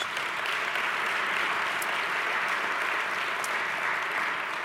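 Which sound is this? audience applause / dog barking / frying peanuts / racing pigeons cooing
audience applause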